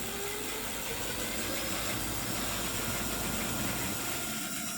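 A Cyrusher electric bike motor runs on the throttle trigger with a steady, dense whirring drone that holds level throughout, close and fairly loud, with no talk over it.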